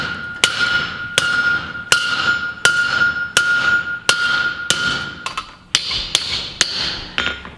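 A barrel rivet hammered flat on the well-worn flat face of an anvil during whiskey barrel making, about a dozen sharp, ringing metallic strikes in a steady rhythm that quickens toward the end.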